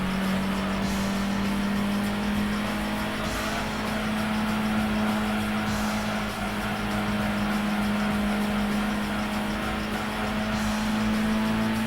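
Mazda RX-7 race car in Gran Turismo 2, a loud sustained engine whine holding a steady pitch with slight shifts, close and continuous, with no talk.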